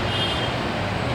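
Traffic noise from vehicles outside on a flooded street during days of heavy rain, a steady broad rumble and hiss of passing cars with no talk.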